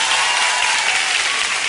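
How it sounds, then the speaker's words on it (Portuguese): Audience applause at a youth talent show, a dense steady burst of clapping and cheering from a crowd, loud and close, lasting under two seconds. "palmas para Garça!"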